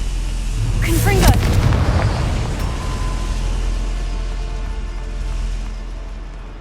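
A Confringo blasting spell in Hogwarts Legacy sets off a booming explosion with a crackling whoosh early on, followed by a long rumbling tail. A voice calls out the spell just before the blast.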